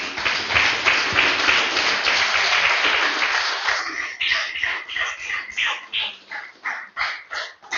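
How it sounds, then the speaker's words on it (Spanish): A church congregation claps loudly and densely at first, then the applause thins into scattered, rhythmic clapping that tapers off toward the end. "Déselo fuerte el aplauso, aleluya."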